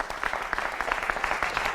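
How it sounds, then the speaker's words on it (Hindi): Studio audience applause on a Hindi television debate show, a steady dense wash of many hands clapping at once, moderately loud and sustained without pause. "जोरदार तालियां"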